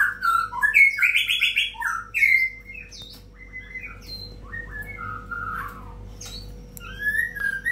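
Bright, varied song of a white-rumped shama (murai batu) in moult, a rapid run of whistles, chirps and warbles that is loudest at the start, then continues as softer scattered phrases over a low background hum.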